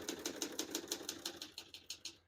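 Rapid, even keystrokes on a 1972 Olivetti Studio 45 portable typewriter, about a dozen crisp mechanical clacks in steady rhythm, close and clear with no talking.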